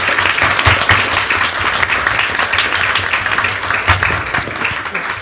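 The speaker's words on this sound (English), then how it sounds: "we're going to recognize the softball team, the championship softball team. Give them a round of applause" Audience at a school board meeting applauding the championship girls' softball team, a dense, loud burst of many hands clapping that holds steady throughout.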